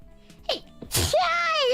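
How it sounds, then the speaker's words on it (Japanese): A single sharp sneeze bursts out after a short intake of breath, close and loud, followed by a brief high vocal sound. "くしゃみ。"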